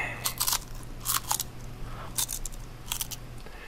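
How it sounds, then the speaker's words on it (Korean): Potato chips are eaten in a run of sharp, close crunching bites, several crisp bursts spaced irregularly over a faint steady hum. "감자칩을 먹는 거였어요"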